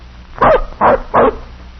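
A young dog, still a pup, gives three short, loud barks in even succession, close by, with quiet gaps between them and no talk.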